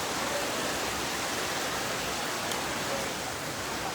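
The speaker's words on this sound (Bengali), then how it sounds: "অনেক বৃষ্টি হচ্ছে" Heavy rain pours down in a dense, even roar that fills the air without pause, close and loud with no voices over it.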